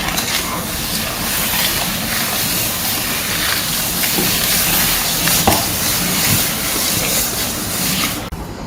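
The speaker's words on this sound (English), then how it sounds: "Okay, stir it." A mixing spoon stirs a melted butter mixture in a bowl for a lemon cake, giving a steady, close scraping and swishing that runs without a break and with no talk.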